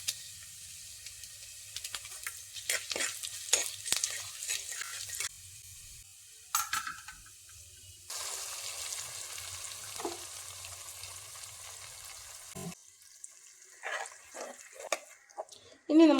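Crushed garlic and two dried red chillies sizzle in hot oil for a Kerala fish curry, a steady crackling fry broken by scrapes of stirring and a few louder bursts, with a low hum underneath.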